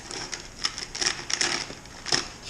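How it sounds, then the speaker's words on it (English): Close-up crinkling and snipping as dull scissors work through a plastic package of hops, with irregular crackly cuts and rustles. "Boy, these scissors are dull."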